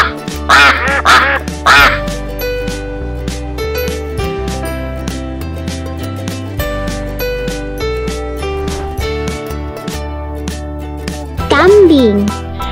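A toy duck quacks in three quick loud bursts at the start and again near the end, over steady children's music.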